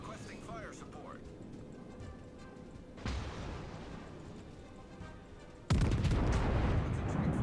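Naval shells from the video game World of Warships slam into a mountain: two sudden, deep rumbling blasts a few seconds apart over a steady battle background.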